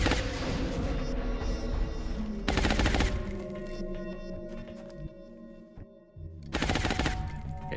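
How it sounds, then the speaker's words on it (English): A tandem warhead rocket fired in XCOM: Enemy Unknown, heard as heavy broadband blasts in two bursts with rumbling, ringing debris and game effects between them. "Guess I will fire one rocket."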